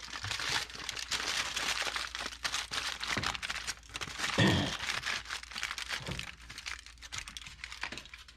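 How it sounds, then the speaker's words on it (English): Aluminium foil crinkles and crackles as it is wrapped over resting wild duck breasts, a dense, continuous rustling close by with a few sharper crunches. "I'm going to wrap them in foil, at least cover them in foil"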